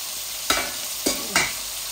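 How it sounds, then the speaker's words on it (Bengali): Rohu fish frying in a hot pan, with three short bursts of sizzling spitting up at steady intervals over a constant background hiss. "মাছ ভাজার আগুনটা কমাই ফেলি, বেশি হয়ে গেছিল।"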